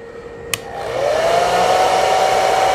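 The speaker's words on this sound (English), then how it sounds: "So hair dryer, low fan only first." A hair dryer running on its low fan setting, powered through a Bestek 500-watt pure sine wave inverter, starts up and settles into a steady close whirring drone with a rising motor tone, with no one talking.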